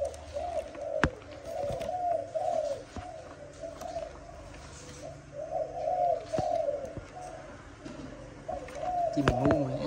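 Malaysian spotted doves coo in repeated rhythmic phrases, fairly close and clear, with brief pauses between bouts and some faint background chirps.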